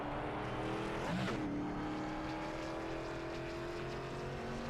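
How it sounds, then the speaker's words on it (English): A NASCAR-style race car circles the Bristol short track during qualifying, its engine a steady loud roar with a brief swelling pass near the middle, no voices over it. "So Paul Ferdiani is the next car on track."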